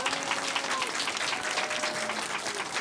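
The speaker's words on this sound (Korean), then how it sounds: "우리 박수로 맞이해 주십시오." A crowd at a Christian Liberal Party event claps steadily to welcome presidential candidate Hong Jun-pyo, a dense, even wash of applause with a faint tonal hum beneath.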